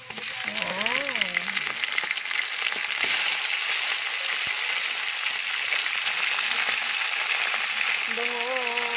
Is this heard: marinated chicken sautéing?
yes